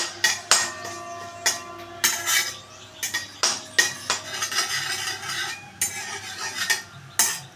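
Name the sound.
frying and stirring in a pan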